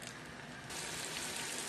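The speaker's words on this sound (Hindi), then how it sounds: "अब इसके अंदर मैं प्याज डाल दूंगा और प्याज को जो है हम लोग लाइट गोल्डन होने तक पकाएंगे।" Onions sizzle and fry in hot oil in a pot for a handi kabab, a steady broadband crackle that grows louder partway through as the pieces hit the oil, close up with no talking.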